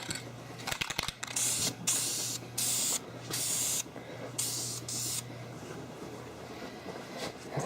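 Short hissing bursts from an aerosol spray can applying snake skin camo paint to a 20 gauge shotgun, close and sharp, coming in irregular squirts of about a second each with brief pauses between them.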